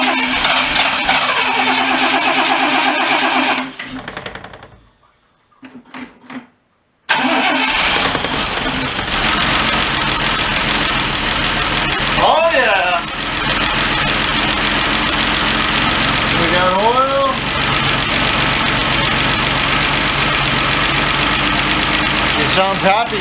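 An MG MGC GT engine cranks and catches, drops out briefly, then fires again and settles into a loud, steady idle with a slightly uneven throb, while someone talks over it now and then.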